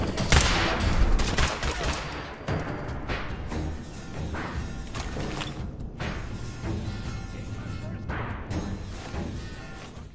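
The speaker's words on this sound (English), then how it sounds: "we're getting shot at too" Gunfire in the video game Fallout 4 during a fight at an assembly plant, with repeated sharp bursts and volleys of shots crackling across ten seconds amid ongoing combat noise.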